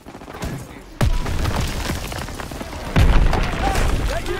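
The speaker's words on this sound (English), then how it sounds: "Gunfire! We must be near our guys." Gunfire in Call of Duty WWII rings out in heavy booming shots near one and three seconds. Between them, scattered distant reports and rattling shots echo over a rumbling battlefield backdrop.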